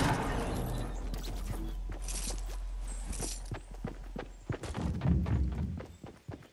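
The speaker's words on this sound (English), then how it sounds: "I hear footsteps all around me." Footsteps in the Fortnite Battle Royale video game: a string of soft thuds and thumps at uneven spacing, heard under a steady bed of game sound and growing more prominent toward the end.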